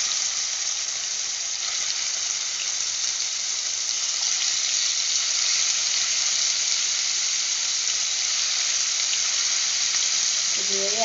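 Medium pieces of chicken frying in oil in a hot pan for a Manjali biryani, a loud, steady hiss and sizzle lasting throughout with faint stirring near the end.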